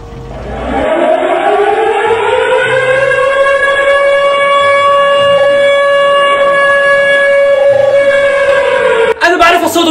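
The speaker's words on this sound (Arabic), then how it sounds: "هذا صوت حرب ببجي" A loud, sustained war siren from the PUBG video game, rising at the start and then holding a steady wailing tone with layered harmonics for several seconds before cutting off abruptly.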